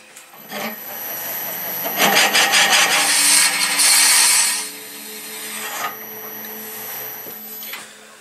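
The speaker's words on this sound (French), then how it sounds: "Alors je vais percer à 25 mm." A drill bores a 25 mm hole in cherry wood, rising into a loud grinding whir for a couple of seconds, then settling into a quieter steady hum before stopping.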